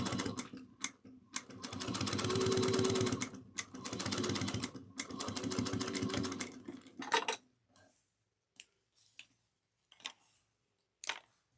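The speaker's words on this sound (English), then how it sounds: "you're top stitching exactly at 1/8 of an inch" Sewing machine top stitching along a zipper on a dual-compartment cross-body bag, running in three loud bursts of several seconds each, followed by scattered brief clicks and taps with quiet gaps.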